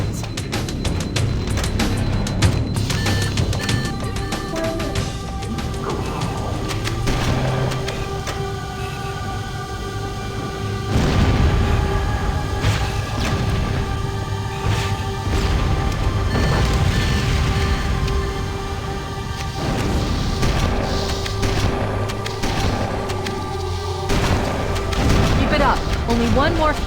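Fusion reactor explosions aboard a ship in Halo CE, heavy booming blasts and rumbling bursts over a droning hum and gunfire-like crackle, loud and repeated across the stretch.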